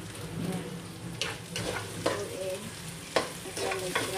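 Chopped onion and garlic sizzle in hot oil for Filipino-style menudo, browning lightly while a spoon scrapes and stirs through the pan, a steady close frying hiss with occasional sharper clacks.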